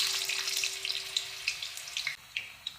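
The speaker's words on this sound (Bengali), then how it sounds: "এই যে আলুগুলো কড়াইতে ছেড়ে দেবো, আস্তে আস্তে ছাড়বো" Potatoes sliding into hot oil in a wok sizzle and crackle with scattered small pops, a quiet continuous frying hiss over a faint steady hum.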